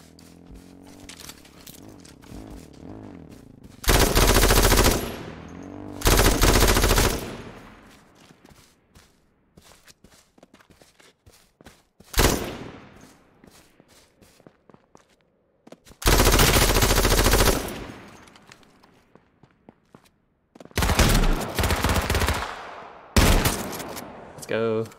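Bursts of LMG machine gun fire in the H1Z1 video game, several loud sustained volleys lasting a second or two each, separated by quieter stretches of movement and scattered single shots.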